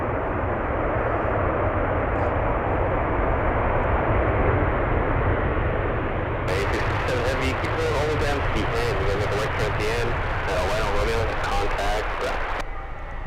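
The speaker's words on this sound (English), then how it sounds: "I think this is the first time we've ever seen a 747 land on 3-3." A Boeing 747 lands on runway 33, producing a loud, continuous jet roar that holds for the whole stretch, with voices faintly present.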